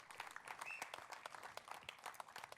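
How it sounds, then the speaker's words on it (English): A crowd applauding steadily at a press conference, dense clapping from many hands with faint cheering and voices mixed in. "A huge round of applause for him."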